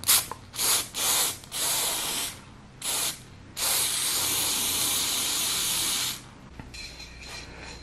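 Rubber coating sprays from an aerosol can onto a Xiaomi M365 scooter's brake light area: several short hissing bursts, then one long sustained spray, loud and close, followed by a faint rattle.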